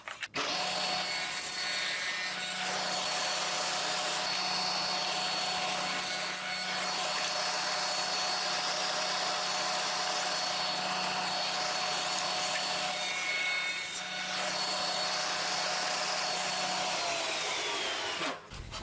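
Table saw with a dado blade cuts tenons on flat panel cabinet door parts, a loud steady whine and rushing cut running continuously for the whole stretch with no talk.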